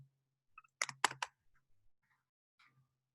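A short quick burst of computer keyboard typing, a few crisp close keystrokes clustered together followed by a couple of isolated lighter taps in an otherwise quiet room.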